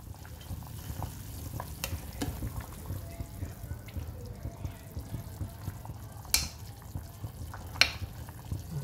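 Vietnamese beef stew, bò kho, simmering in an uncovered pot after an hour of boiling, a soft steady bubbling and sizzle close by with occasional clinks of utensils, and no voices.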